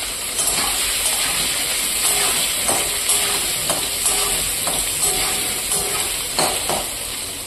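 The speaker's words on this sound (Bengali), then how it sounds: "আর এই তেলেই কিন্তু প্রথমে আলু, ঝোলের আলু আর এঁচোড়ের আলু ভেজে নিব" Potatoes frying in a large amount of hot oil for curry and jackfruit dishes, giving a steady close sizzle with occasional stirring scrapes and no talk.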